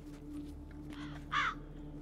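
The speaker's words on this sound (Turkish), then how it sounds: "Haber vermişlerdi şimdi bu kargalar ona." Crows caw in The Witcher 3: Blood and Wine, a video game, with a couple of faint caws followed by one louder, nearer harsh call over a low steady ambient hum.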